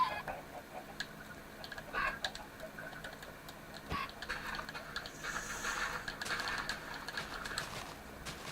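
Minecraft chickens at a small farmstead coop give scattered soft clucks and bird calls, faint against low background ambience, with no talking.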